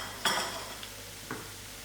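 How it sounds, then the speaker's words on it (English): A spoon stirs prawn and chicken curry with ground masala in a pot, giving two or three short scraping, clinking strokes against the metal over a quiet background. "Give this a good stir."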